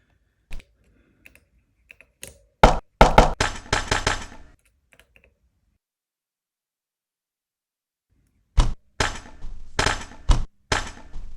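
A slow drum beat at 65 BPM is sequenced on a PO-33 sampler, giving dry, sharp percussive hits in short bursts separated by a silent gap, fairly quiet and with no talk.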